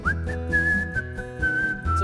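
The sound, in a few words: person whistling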